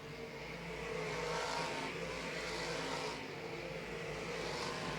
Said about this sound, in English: Perry Francis moving up to lap the back markers.